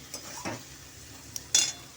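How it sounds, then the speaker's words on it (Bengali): Chicken stuffing for potol dolma is stirred in a frying pan, giving a few quiet scraping strokes and a brief louder clink over a faint sizzle, with no talk. "দেখুন আমার ভাজা ভাজা হয়ে এসছে, আর দুবার নাড়াচাড়া করে"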